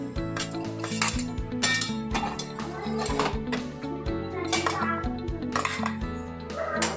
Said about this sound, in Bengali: এবার আমি কড়াইটা বসিয়ে দেবো ওভেনের মধ্যে।